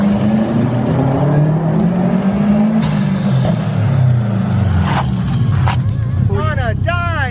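Mitsubishi Evo and Subaru cars drifting with loud, steady engine roar and tire noise, ending with rising squeals. People talk over the sound throughout.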